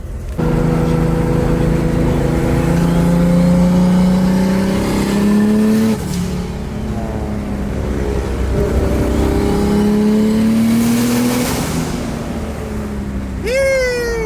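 A Toyota Supra engine revs hard through the gears, the pitch climbing and dropping with each shift, loud and echoing in an enclosed tunnel.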